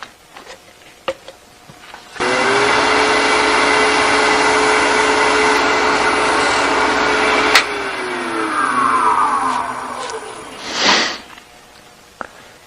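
Wooden piece being friction-polished on a lathe, a steady loud whirring hiss that starts abruptly, holds for several seconds, then dies away, ending with a short swell.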